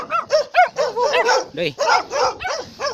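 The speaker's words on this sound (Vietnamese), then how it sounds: "con chó sợ quá" A dog in a highland village barks again and again at close range in a quick, irregular volley of sharp yaps, with a voice briefly heard among them.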